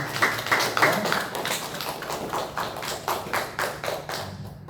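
A church congregation applauds at a Sunday worship service, a dense, steady clapping that fills the room evenly and holds at moderate loudness before tapering off at the end.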